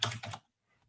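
Typing code on a computer keyboard: a quick burst of soft clicking keystrokes, close and faint, then near silence.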